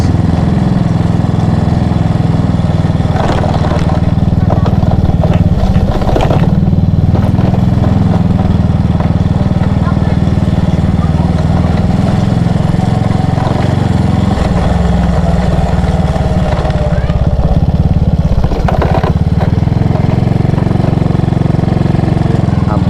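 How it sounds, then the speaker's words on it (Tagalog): A motorcycle engine made noisy by a loose screw runs steadily and loudly for the whole stretch, a rough low drone with some clattering bursts, close by. "Meron lang lumuwag sa tornilyo kaya maingay yung ating motor ngayon."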